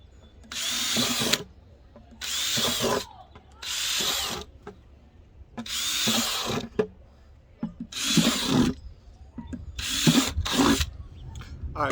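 A power drill bores drainage holes through the bottom of a container for growing kitchen scrap potatoes: six loud close bursts of whining drilling, each about a second long, separated by short pauses.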